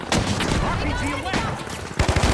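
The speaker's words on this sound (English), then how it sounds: "RPG away!" Video game combat with an RPG rocket launch and explosion amid rapid gunfire, a dense loud crackling barrage that ends in a heavy booming burst, while a voice is heard over it.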